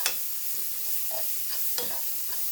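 Onions sauteing in oil sizzle steadily in a pan, with a few soft scrapes and stirs breaking through the frying hiss.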